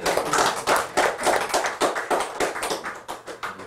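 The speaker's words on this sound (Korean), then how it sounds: "지금 우리 박수로 하면 경례 박수." A church congregation claps in unison at a seminary semester-opening service, a quick, regular rhythm of sharp, close claps roughly every quarter second, no talk over it.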